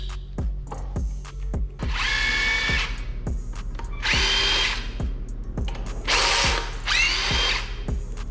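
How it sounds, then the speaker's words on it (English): A power tool whirs bolts out of a damaged Cupra gearbox in four loud, steady bursts lasting a second or so each, separated by pauses filled with sharp, evenly spaced metallic ticks and clicks. "I'm gonna whiz these bolts out now and then crack on."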